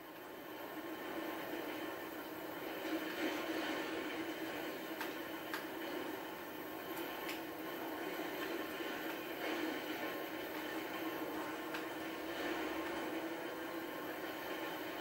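A steady, continuous rumble of a train rolling past in GTA 5 Online, with a constant broad noise bed and a few faint ticking clicks, no voices.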